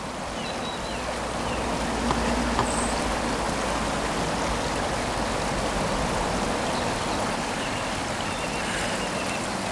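A Lake District river rushes beneath a footbridge near Rydal, a steady, full broadband roar of flowing water heard up close, with no voices.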